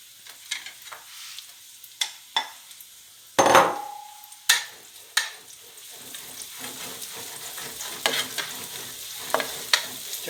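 Champignon mushrooms hit hot oil in a pan, giving a bright, steady sizzle with scattered clinks and taps of a spoon against the pan and one louder burst partway through.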